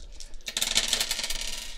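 Dice rolled onto a table during a Warhammer 40K Kill Team tabletop game, bursting into a bright, rattling clatter that tumbles and settles over about a second, with no voices.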